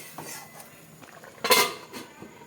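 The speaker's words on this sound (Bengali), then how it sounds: "ঢাকনা লাগিয়ে সেদ্ধ হতে দেবো" A metal lid is set onto a cooking pot of potato and bata fish curry: a few light clinks and scrapes, then one sharp, bright clang, and a softer knock afterward, all close by in a quiet kitchen.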